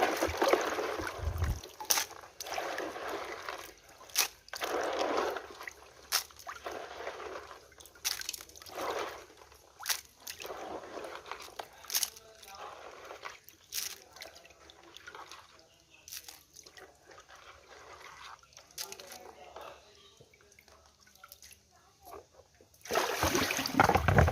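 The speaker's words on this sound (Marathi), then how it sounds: "चांगले खळखळून पाण्यातून काढ काढत आहे" Crabs are rinsed by hand in water in a colander, with repeated irregular splashes, drips and sloshing up close, busier at the start and end and quieter trickling in between.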